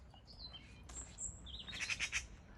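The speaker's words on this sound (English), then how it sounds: "One of those tuxedo wearing crows, you know?" A black-and-white crow-like bird, likely a magpie, gives a few short, faint chattering calls outdoors along a rural walking route, brief and distant over low ambient noise.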